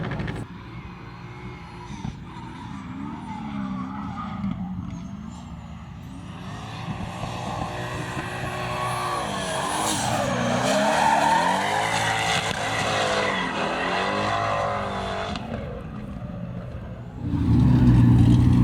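A Corvette race car with a new transmission runs on a track, its engine climbing and falling in pitch as it passes, with tires squealing through corners. The sound swells loud mid-pass and ends in a deep close rumble.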